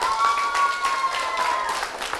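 A festival audience applauds in a steady wash of many hands clapping, with a faint sustained tone ringing through the crowd noise.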